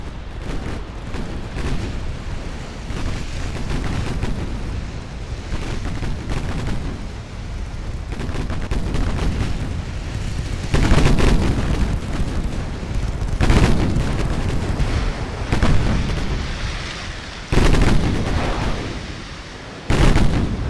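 Naval guns firing in Ultimate Admiral Dreadnoughts, loud repeated booming salvos that roll into one another over a constant rumbling battle din, with heavier blasts bunched in the second half.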